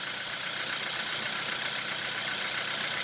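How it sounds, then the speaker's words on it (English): A Hyundai car engine idling with the hood open, during an ignition coil boot replacement, producing a steady, even hum with a faint rhythmic low pulse throughout. "And this is the engine."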